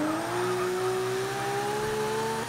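Ferrari 250 California engine in Forza 6 with a steady, rising tone that holds as the car accelerates. It sounds loud and continuous, with no talk over it.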